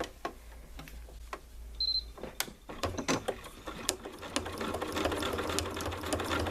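Sewing machine doing free-motion decorative stitching inside a butterfly shape, scattered close clicks giving way to a rapid, steady mechanical chatter of stitching toward the end.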